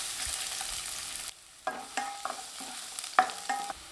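Quiet sizzling of chopped garlic sautéing in hot oil, with occasional scraping stirs and light clinks, close by and no talking.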